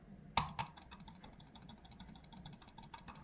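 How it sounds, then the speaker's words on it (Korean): A sharp click starts off a long run of quick, light vertical mouse button clicks, tapped rapidly and steadily at close range. "마우스들 클릭 소리를 한번 들어보세요."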